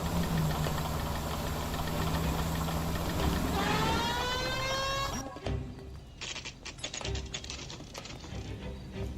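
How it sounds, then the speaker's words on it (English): Engine clicking in the video game L.A. Noire: a steady, loud mechanical engine drone with rapid rhythmic ticking rising in pitch, then cutting off into sparser clattering clicks. "like that clicking that you hear"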